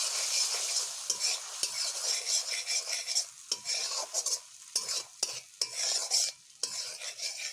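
Onion and garlic paste frying in a pan sizzles steadily while a spoon stirs it with repeated close scraping strokes. Short gaps come between the stirs.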